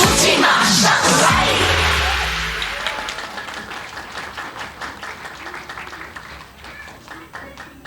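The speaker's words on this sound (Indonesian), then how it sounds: "Sekali lagi kasih tepuk tangan." A church congregation at a Mandarin-language worship service applauds loudly, heavy clapping and a few yells filling the first two seconds, then fading into lighter, scattered clapping that continues to the end.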